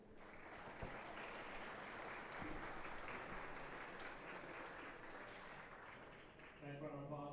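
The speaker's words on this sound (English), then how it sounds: "Nice round of applause for April Larson." Steady, even applause from the audience at a women's world 8-ball pool championship, a dense wash of clapping heard from some distance, fairly faint, ending as a voice starts to talk.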